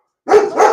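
A dog outside gives two quick close barks back to back, loud and sharp, with no talking over them.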